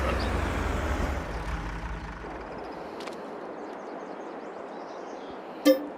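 A vehicle engine idles in Farming Simulator 22 as a steady low rumble that fades a little after the first couple of seconds, with a brief sharp mechanical blip near the end.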